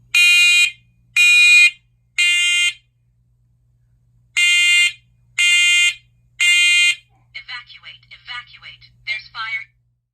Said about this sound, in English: Here's a sample of what it sounds like when the smoke and carbon monoxide detector goes off